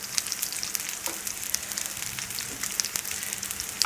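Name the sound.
chapli kebabs of minced meat frying on a slow flame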